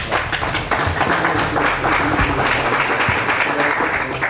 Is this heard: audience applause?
yes